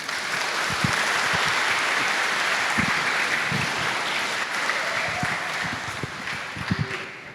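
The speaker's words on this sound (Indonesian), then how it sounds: "Kita beri tepuk tangan" A church congregation at a Pesparani Banten youth choir concert claps together for several seconds, a steady, fairly loud patter of many hands with occasional sharper individual claps, fading slightly near the end.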